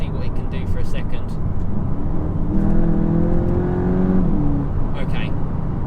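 A Golf 8 GTI Clubsport accelerating hard from inside the cabin. A steady engine drone rises in pitch for a couple of seconds and then falls away, with road and wind roar underneath.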